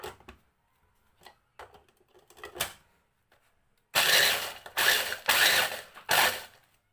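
Several loud, harsh bursts of grinding as a kitchen blender or food processor grinds biscuits into powder, each a second or so long, after a quieter stretch of faint clicks and handling noises.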